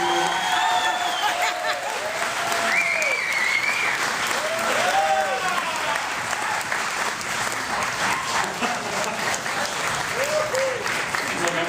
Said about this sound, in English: Big round of applause for our friend.